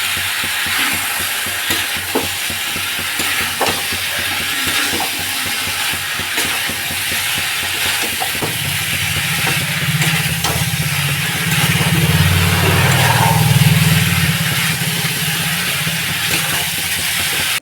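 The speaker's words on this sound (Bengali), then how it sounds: "এবার ভাজা এঁচোড়টা আর ভাজা আলুটা দিয়ে ভালো করে নাড়াচাড়া করে নেব।" Fried jackfruit and fried potato being stirred in a pan of cooked-down masala, repeated scraping strokes over a steady sizzle, close and continuous, with a louder low frying rumble in the middle stretch and no voices.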